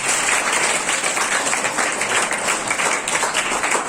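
A school or lecture audience claps steadily throughout, dense and continuous applause from many hands filling the space, with no voices standing out above it.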